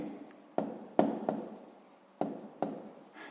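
A pen scratches on paper while a sixth-grade maths exercise is written out by hand, with short strokes and several sharper taps as the pen meets the page, under a quiet room tone.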